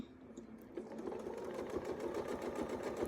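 An embroidery machine begins stitching a wreath design after the needle is lined up on a crosshair mark, its rapid rhythmic needle pulses building into a steady close chatter.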